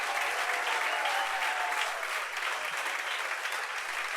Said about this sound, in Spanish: Vamos a darle un aplauso a los hermanos de la cocina.